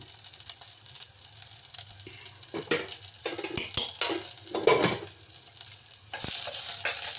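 A spoon scrapes and stirs in a pan over a soft sizzle, with irregular clinks and scraping bursts growing busier midway, then a steady frying hiss.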